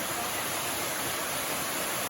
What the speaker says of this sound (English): Here's our little waterfall, almost back to the car.